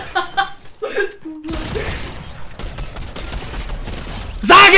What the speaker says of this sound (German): ich werd von hinten angeschossen